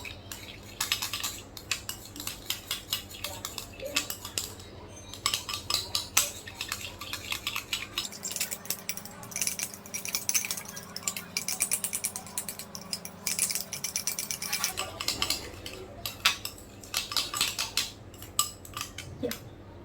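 A spoon clinks and scrapes steadily around a small bowl while yoghurt face mask is mixed, rapid busy tapping and scraping close up for the whole stretch, with a low background hum in the middle, no talking.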